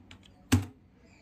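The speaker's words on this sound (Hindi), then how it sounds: "भाई यार क्या गंदी टाइपिंग कर रहा हूँ।" A single key clack on a computer keyboard during C programming work, one short, close, moderately loud tap standing alone over a quiet background.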